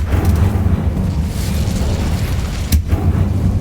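A Hogwarts Legacy Incendio fire spell rolls out as a steady, dense whoosh and rumble with a sharp crack near the end, loud and close with no talk.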